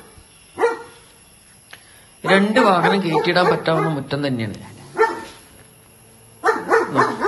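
A dog in an interlocked-paved kennel in the front yard of a house gives a few short, sharp barks. Someone speaks over it at length.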